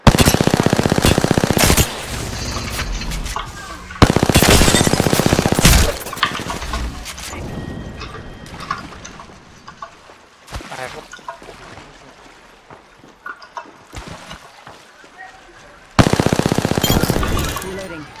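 Apex Legends firefight: loud sustained bursts of automatic gunfire in several long volleys separated by quieter stretches of scattered shots and game effects.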